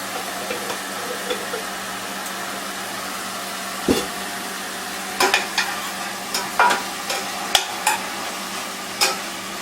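Ginger garlic paste sautés with half-cooked onion in a pan, a faint steady sizzle punctuated by a series of spoon scrapes and knocks against the pan, growing busier in the second half, close and free of talk.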